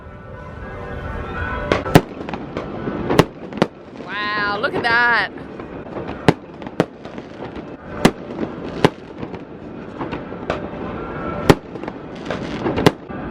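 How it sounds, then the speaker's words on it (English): Daytime fireworks burst over a boat anchorage in Malta: a series of sharp, loud bangs at irregular intervals, echoing across open water, with wind noise and people talking excitedly in between. "the fireworks have just started"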